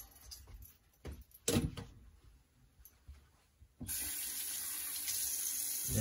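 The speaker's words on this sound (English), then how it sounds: "Rinse the face" A bathroom tap runs while a face is rinsed: scattered splashes and drips at first, then a steady, loud gush of running water fills the last two seconds close to the listener.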